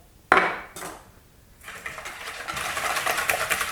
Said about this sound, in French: je vais fouetter donc rapidement pendant environ 20 secondes